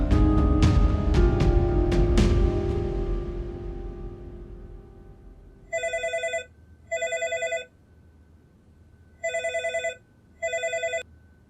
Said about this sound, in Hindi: मैं फोन करती हूँ अकबर को।